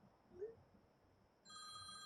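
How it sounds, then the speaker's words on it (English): Phone ringtone starting partway through, a steady electronic ring with sustained tones, fairly clear above quiet background during a Fallout 76 livestream. "Oh, and now I'm getting a phone call."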